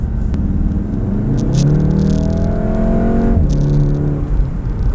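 Volkswagen Golf R with a Eurodyne Stage 1.5 tune accelerating hard up an on-ramp, its engine note climbing steadily in pitch over a heavy continuous rumble, close and loud from inside the car.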